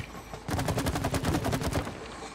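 Rapid gunfire crackles at the shooting range mini game in the video game It Takes Two, a dense burst of shots lasting about a second and a half before stopping, loud and with no voices over it.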